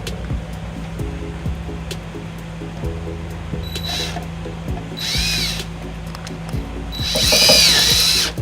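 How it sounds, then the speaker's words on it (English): Power driver running a self-tapping screw into the body of a 2012 Ford Escape during trailer wiring installation, a humming motor with ticks, brief whirring bursts, and a louder final spin near the end. "You can see that you can use a 1/4-inch nut driver or a Phillips screwdriver head."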